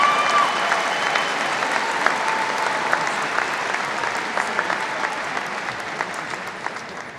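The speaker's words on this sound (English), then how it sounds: "Feel free to applaud for our senior class officers." Steady applause from a graduation ceremony audience of family, friends and staff, greeting the senior class officers, with dense continuous clapping that holds at an even level throughout.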